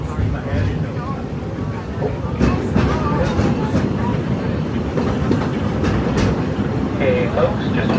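Walt Disney World Railroad train running along its track, with a steady rumble and rhythmic wheel clatter heard from onboard and occasional faint squeals.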